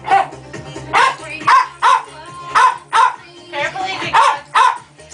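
A paraplegic dog barks on command in a regular series of about nine short, loud, close barks, with brief pauses between them.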